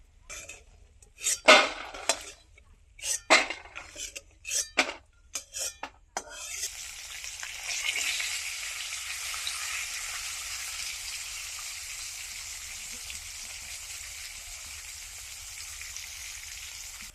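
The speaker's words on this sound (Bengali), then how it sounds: "দেখো বড়িগুলো ভাজা হয়ে গেছে, এবার আমি তুলে নেবো।" Lentil badi frying in oil in a pan, with sharp clinks of a metal utensil against the pan over the first six seconds, then a steady, close sizzle that continues alone.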